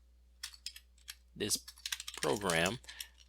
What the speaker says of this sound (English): I'm just going to type description here